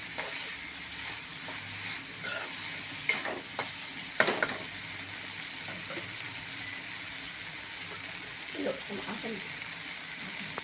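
Ivy gourd (kovakkai) poriyal stir-fried in a home kitchen pan, a soft continuous sizzle with scattered scraping clinks of the spatula against the pan over several seconds.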